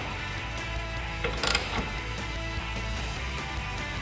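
A wrench with extensions tightens bolts on a Jeep Wrangler TJ/LJ shield carrier, heard as quiet mechanical clicks and a short burst of ratcheting clatter near the middle, close and soft with no talk.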